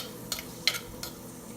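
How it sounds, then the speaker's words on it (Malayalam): Ginger, garlic and green chillies sautéing in oil for a salmon fish curry, a faint low sizzle broken by three short spoon scrapes against the pan, close by, with no talking. "ഈ ഇഞ്ചിയുടെയും വെളുത്തുള്ളിയുടെയൊക്കെ പച്ചമണം മാറുന്നത് വരെ ഒന്ന് വഴറ്റി കൊടുക്കണം."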